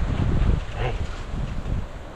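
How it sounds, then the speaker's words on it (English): Strong east wind gusts outdoors near oak trees in Florida standing water, a continuous low buffeting roar across the microphone with no talking. "It's really windy. It's coming pretty strong out of the east."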